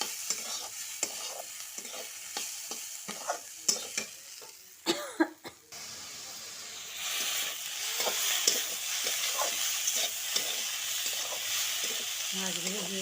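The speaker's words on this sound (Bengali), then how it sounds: "ফ্রাই করে নিচ্ছি।" Small cut potato pieces fry in a pan: scraping, clattering stirs at first, then a steady, loud sizzle with occasional utensil knocks continuing to the end.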